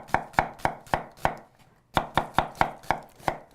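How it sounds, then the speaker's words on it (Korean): A knife cuts an onion on a board in quick, even chops, about a dozen sharp knocks in two runs separated by a short pause, close and clear with no talking. "양파는 이렇게 해서 썰어 놓으시고요"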